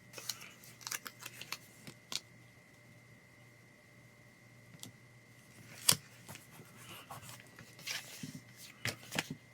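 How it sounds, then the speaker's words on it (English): Scissors snipping paper offset in a creative journal, a run of short crisp cuts and rustles at close range over a quiet room, with brief pauses between snips and no talking. "Trim off some of this offset."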